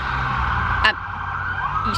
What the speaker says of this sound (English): How appropriate that I have sirens in the background.